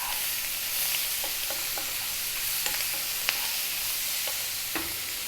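Sliced ham heats in a frying pan with a constant bright hiss, broken by small irregular ticks and pops from the pan throughout, close and steady.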